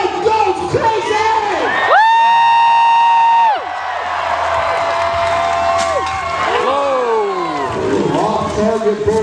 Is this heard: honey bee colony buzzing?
no